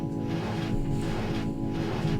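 A resampled deep house synth pad in Logic Pro, layered with a copy an octave lower, makes a thick, warm, sustained chord that swells and fades slightly. It plays alone and close, with no voices.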